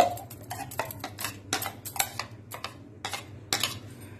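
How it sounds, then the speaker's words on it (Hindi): A spoon stirs ground fenugreek into a chickpea-style cheela batter, clinking against the bowl in a steady rhythm of roughly two strikes per second, close and distinct with no talking. "इसमें जो हमने मेथी ग्राइंड किया है इसमें मिक्स कर देंगे"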